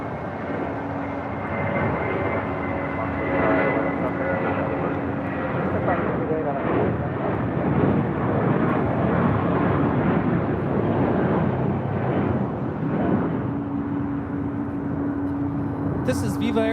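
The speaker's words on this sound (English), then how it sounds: "511 taking off to Guadalajara on an A320" Viva Aerobus Airbus A320 taking off from runway 25 right at LAX, a loud, steady roar of jet engines that holds throughout with a faint tonal whine, voices talking over it at times.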